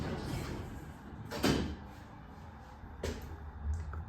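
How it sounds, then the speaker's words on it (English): Shopping centre lift doors slide shut with a soft thud, then a second open-close movement follows about a second and a half later, both fairly near and standing alone with no talking. "Door closing."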